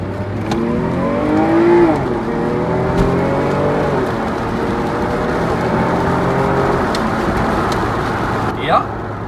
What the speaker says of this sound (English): let's do a freeway on-ramp run and see how it goes